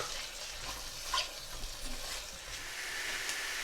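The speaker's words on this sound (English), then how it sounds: "the minced meat has been fried well with ginger and garlic paste for a few minutes" Minced meat frying with ginger and garlic paste in a pan gives a steady, fairly quiet sizzle, with a brief stirring scrape partway through and no voices.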